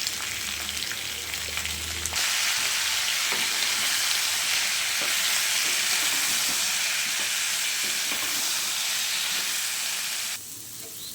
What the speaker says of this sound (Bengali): এখানে আমার ভাজাটা কমপ্লিট হয়ে গেছে